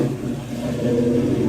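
A Ford Mustang's engine gives a steady, loud, low rumble at a classic car show. It holds a throaty idle or light rev without a clear climb in pitch.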